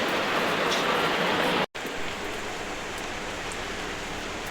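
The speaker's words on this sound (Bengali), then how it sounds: "এখনও বৃষ্টি পড়ছে তো কিছু করার নেই আজকে আর থামার নয়" Steady rain pours down, a dense even hiss of falling water heard close, broken by a brief silent gap before continuing slightly softer.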